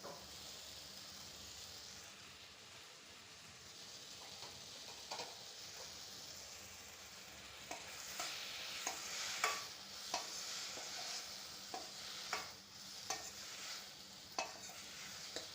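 Radish sizzles in hot oil while a spoon stirs and scrapes the pan, giving a soft, steady frying hiss broken by regular clinks. The sound is close but faint, with no talking.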